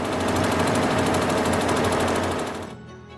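An embroidery machine stitches a rose design on fabric with a fast, steady mechanical chatter close by, running continuously before stopping abruptly near the end.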